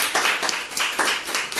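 Congregation applauding God during a Spanish-language church service in Peru, a dense wash of many hands clapping together, steady and fairly loud with slight surges, no voices over it.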